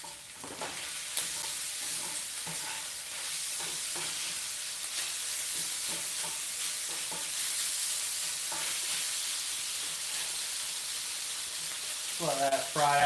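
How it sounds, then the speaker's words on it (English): Fried rice sizzling in oil in a pan during a home dinner, a steady frying hiss with scraping stir strokes throughout and a brighter clatter near the end, with occasional voices over it. "Let that fry off, stir it a couple more times."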